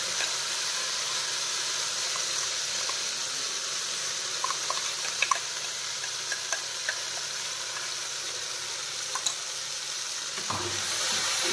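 A paste of onion, ginger, garlic, cashew and peanut fries in hot oil, giving an even, steady sizzle with scattered light crackles and a brief scrape near the end, with no talking.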